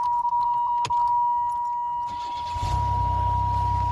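An old, low-mileage, one-owner Buick with fresh spark plugs, running on five-year-old gas, has a steady chime ringing before its engine cranks and catches near the end, settling into a loud, close idling rumble.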